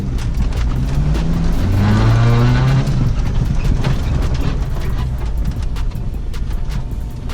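A lifted Honda CR-V on 34-inch tires driving off-road through soupy mud at an OHV park, its engine loud and close with a rising rev, plus thick sloshing and splashing as the tires churn, sustained throughout.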